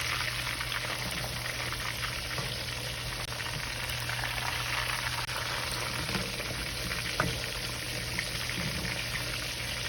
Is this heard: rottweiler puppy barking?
no